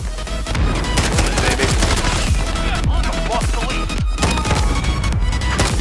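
Rapid automatic fire from the CR-56 AMAX assault rifle in Call of Duty, loud and close, with sustained bursts and sharp impacts running nearly the whole time and brief gaps between volleys.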